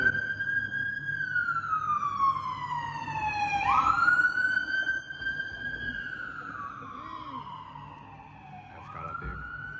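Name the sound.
emergency vehicle siren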